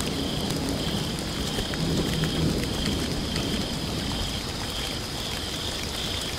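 Steady rain hiss with low rumbling thunder swelling near the two-second mark in the horror video game The Perfect Family, continuous and moderately loud throughout with no talking.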